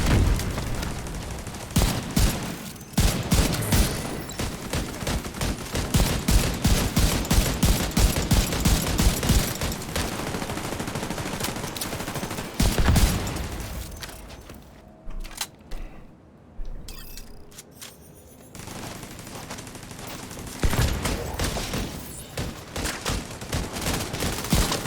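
Video game gunfire in The Division 2, rapid bursts of automatic shots crackling in dense volleys, pausing briefly midway before the shooting resumes, loud and close.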